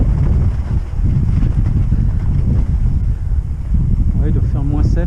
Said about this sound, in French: Il y a un peu de vent, je ne sais pas si vous l'entendez.